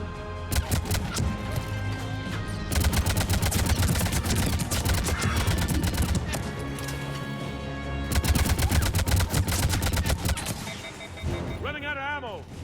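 Rapid bursts of automatic gunfire in the video game Mass Effect 3, loud and sustained with dense repeated shots, broken by a brief pause and mixed with game effects.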